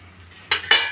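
A spoon briefly scrapes and knocks against a pot while stirring spices and mango into a fish curry, two quick distinct scrapes, close and fairly loud, with no talking.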